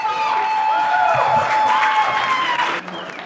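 A convention audience at Convergence applauds and cheers a live stage performance of Reverend Matt's Monster Science, giving a dense, steady clapping roar that lasts about three seconds before dropping off abruptly.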